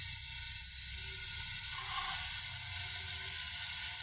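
Koi fish frying in cooked-down spice paste, a steady close hiss and sizzle of hot oil that holds evenly throughout without talk.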